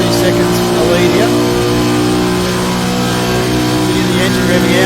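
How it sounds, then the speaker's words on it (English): A V8 race car engine revs out hard, holding a loud, steady high-pitched roar at full throttle, with no talk over it. "The engine revving out, you hear"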